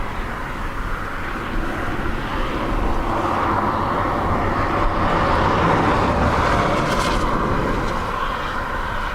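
A Swiss Airbus A220 airliner drones steadily at Dublin Airport, a broad, continuous jet rumble that swells slightly mid-way, heard from a distance with light wind in the background.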